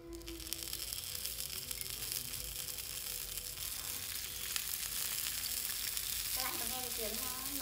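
Steady hot-oil sizzling as sausages fry, with scattered crackles and pops, close by, rising slightly near the end as a few clinks sound.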